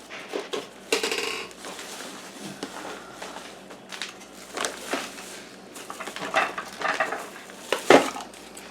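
A scoop scraping and knocking inside a flour canister, with irregular scratchy rasps and clinks at close range, louder strikes near 1 and 8 seconds, and no talk.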